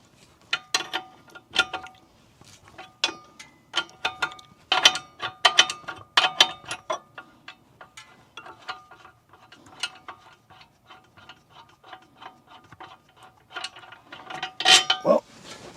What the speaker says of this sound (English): slowly but surely unbolt it with this open-end wrench